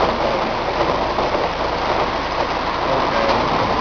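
Hail pounds on a car, a dense, steady roar of hard impacts drumming on the body and windows, loud and continuous throughout.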